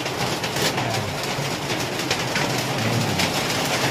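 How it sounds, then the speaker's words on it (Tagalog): Heavy rain pours in a steady, dense hiss that stays loud and unbroken throughout, with no voices. "lakas ng ulan"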